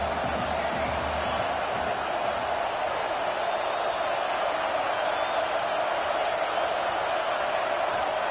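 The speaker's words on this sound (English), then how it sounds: "This crowd trying to make life miserable for this offense." Stadium crowd roaring at an Ole Miss vs Oregon college football game, a steady, dense wall of sustained noise with no breaks, heard from within the stands.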